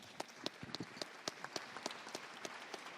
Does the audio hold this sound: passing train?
no